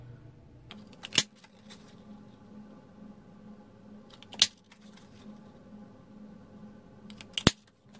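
A handheld craft punch cuts paper shapes for a stamped autumn-leaves card, three crisp, close snapping clicks spaced a few seconds apart with quiet between them.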